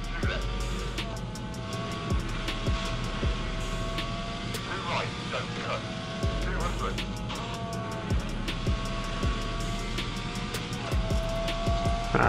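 Car engine in an iPhone racing game steadily revving and picking up speed as the car cruises, with someone talking over the continuous engine drone throughout.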